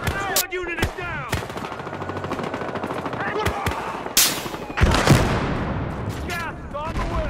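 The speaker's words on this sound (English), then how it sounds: "Shit, I'm taking heavy fire!" Heavy automatic gunfire in a Battlefield Hardline police shootout, with rapid bursts and sharp shots crackling close and loud over several seconds, alongside shouted voices and game radio chatter.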